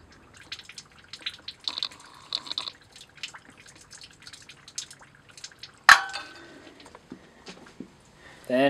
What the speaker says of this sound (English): you're going to want to open the pressure relief valve right here